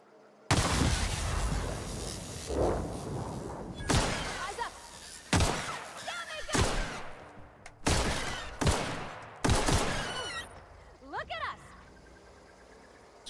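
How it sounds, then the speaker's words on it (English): Pistol gunfire aimed at birds in the video game The Outer Worlds: loud, sharp single shots fired at irregular intervals, each with a ringing tail, and bird-like chirps in the gaps. "should we try and kill these birds? Let's use our pistol."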